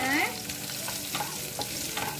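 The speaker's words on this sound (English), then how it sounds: "So now we need to give it a small stir." Finely chopped green chili sizzling in a pan, stirred with a few soft scraping strokes over a steady, close frying hiss.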